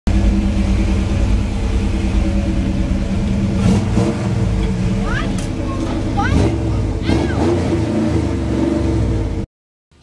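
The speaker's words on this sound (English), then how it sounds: "We're gonna be forced to use this truck to pull the test stand around, so let's see if it'll run." Old 1966 truck engine turning over and running with a mid-pitched rumbling roar that revs and surges, loud and close, while people talk over it before it cuts off abruptly near the end.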